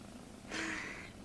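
A soft, short purr from a four-month-old kitten of a very large-growing breed swells in close to the microphone for about half a second, with a quiet breathy hiss and no voices.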